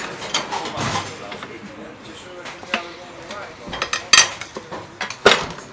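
Metal tire levers clink and scrape against a motorcycle rim as they are worked under the rubber tire bead, with sharp metallic clicks standing out near the end over a busy workshop background.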